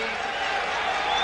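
A large crowd cheers and applauds at the Calgary 1988 Olympic slalom, a dense, steady roar of distant voices and clapping filling the short moment without pause.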